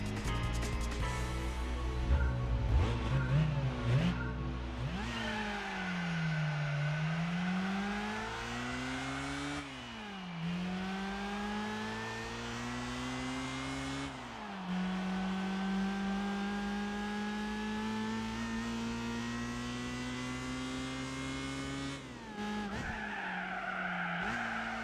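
A racing car in Gran Turismo runs continuously, its engine note climbing and dropping with gear shifts and throttle changes, while tires squeal and skid through corners, loud and close throughout.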